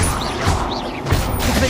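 Spell explosions from Confringo and Bombarda in Hogwarts Legacy, a dense continuous wash of crashing magical blasts and whooshing effects, loud and close throughout.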